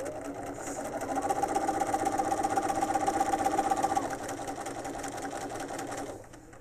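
A sewing machine with a walking foot stitches quilt binding, a steady mid-pitched whirring hum that runs several seconds, then slows and stops, with no talking.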